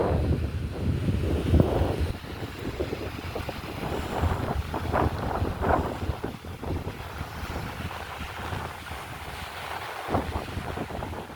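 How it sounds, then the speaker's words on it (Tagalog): Sea waves wash onto the beach near the Burj Al Arab in Dubai, a rolling surf wash with repeated surges under heavy wind buffeting on the microphone, close and fairly loud throughout. "Sarap ng alon."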